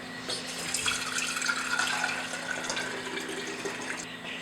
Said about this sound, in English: I'm going to pour it through a strainer so any lumps or clumps don't stay in my yogurt.